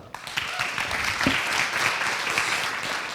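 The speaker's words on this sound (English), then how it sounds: "So big round of applause for Marco." An audience breaks into applause, the clapping swelling quickly and holding steady as a dense, moderately loud crowd sound.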